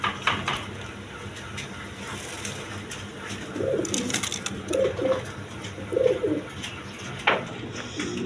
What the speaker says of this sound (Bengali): এখানে এক পেয়ার সিরাজি কবুতর আছে।